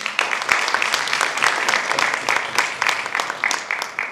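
Audience applause at a film audio launch event, honoring the trailer of the Malayalam film Checkmate: many hands clapping quickly and continuously, loud and close, with no speech over it.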